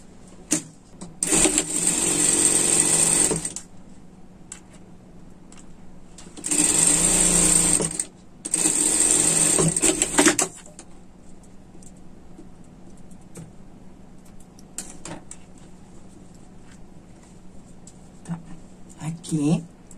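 A sewing machine runs in three distinct bursts while stitching a seam on a collegiate-style pet sweater, a fast whirring buzz lasting a couple of seconds each, close and loud, with quiet handling gaps between.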